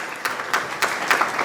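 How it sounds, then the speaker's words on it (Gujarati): Audience applause at a Gujarati community gathering, a steady wash of many hands clapping in a hall with no voices over it, swelling in several brief louder bursts. "એના પણ જોરદાર તાળીઓ."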